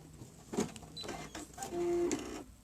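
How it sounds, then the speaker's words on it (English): An embroidery machine stitching the long lines of red flag bars on a Betsy Ross flag keyfob, giving a steady mechanical whir with a sustained motor hum that rises midway, close and alone. "on my screen, it just started stitching one of the long lines, the first long line of the flag bars"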